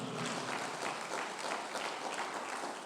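A church congregation claps steadily in sustained applause, a dense, even patter filling the room without pause.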